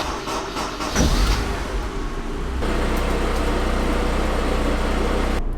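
Honda S2000 engine with a separate start button cranking and catching, settling into a steady loud idle rumble after a brief surge, with a faint click near the end.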